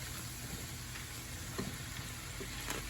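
Sixteen ounces of rinsed mushrooms hit a hot pan for vegan burgers, giving a soft, steady sizzle with faint crackles and stirring scrapes, quiet and close, with no talk.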